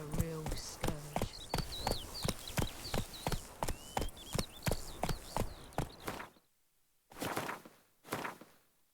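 Roach, Geralt's horse in The Witcher 3, gallops in a steady run of sharp hoofbeats that stops briefly, then picks up again for a few strides. A voice talks faintly under the hooves.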